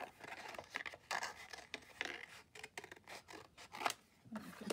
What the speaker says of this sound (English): Separate these two with some scissors here.